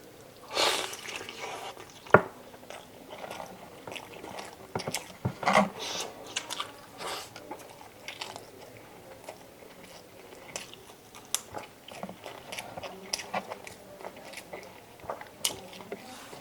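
Close-up mukbang eating of chicken adobo cooked in Coca-Cola, with wet bites, chewing and occasional crunches that come in irregular bursts, plus a few sharp clicks of utensils. No one speaks.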